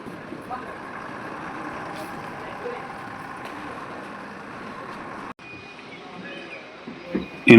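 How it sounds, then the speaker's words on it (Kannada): A KSRTC bus operated by the Sagar depot, running Sagar to Vijayapura via Soraba, pulls into Sagar bus stand with a steady engine rumble and a hiss of air brakes at the end, amid voices in the busy station. "ಇಲ್ಲಿ ಬಂದಿರೋ ಗಾಡಿ ಸಾಗರ್ ಟು ವಿಜಯಪುರ ವಾಯಾ ಸೊರಬ"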